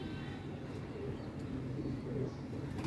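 A pure white pigeon at a pigeon club coos softly, low repeated murmurs set against steady background noise.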